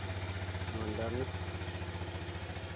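A motorcycle engine runs at a steady idle after finally starting, a low, even rumble heard close but fairly quiet, with a brief voice over it partway through.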